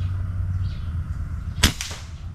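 An M3 airgun fitted with a Sidekick silencer fires a pellet at a paper target 25 meters away: one sharp, muffled crack with a brief tail, over steady outdoor hum and no talk.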